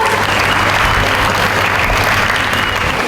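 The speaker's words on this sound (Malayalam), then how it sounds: "നല്ലൊരു കൈയടിയോടെ നമുക്ക് സാറിന് ഒരു നല്ലൊരു വാം വെൽക്കം കൊടുക്കാം" Sustained applause from an audience welcoming a police superintendent onto the stage at a parenting seminar in Kerala, a dense steady clatter of many hands at even loudness throughout, with a faint low hum underneath.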